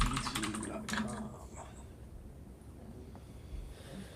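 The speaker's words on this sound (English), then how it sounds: "My mic's picking up my keyboard too" Quick bursts of typing on a computer keyboard, close and fairly quiet, with clustered key clicks early on thinning to a few isolated taps against faint room noise.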